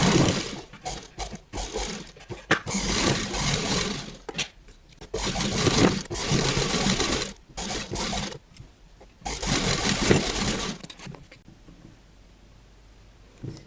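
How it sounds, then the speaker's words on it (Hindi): A sewing machine stitches along the edge of a round-cornered kurti in several whirring bursts of varying length, separated by short pauses, close by. "अब हम इसको टर्न करके यहाँ एकदम किनारे एक सिलाई लगा लें।"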